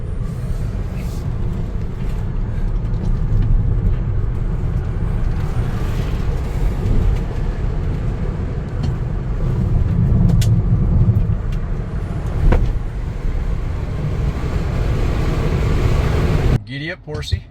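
A Tesla being driven, its cabin filled with a steady low road and tire rumble and wind noise at a constant level, ending with a brief clatter.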